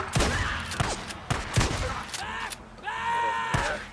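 Enemies shooting guns in Days Gone, a few sharp gunshot cracks spaced irregularly amid game effects and whooshing sounds, moderately loud, no talk.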